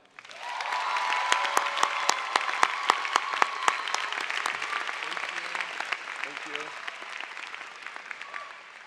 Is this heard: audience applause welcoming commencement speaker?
yes